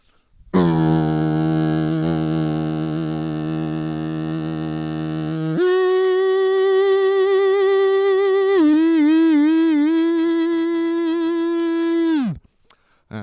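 A beatboxer's voice imitates a distorted electric guitar: a sustained buzzing, crunchy tone held steady, then jumping to a higher held note with a brief wavering bend before cutting off, loud and alone.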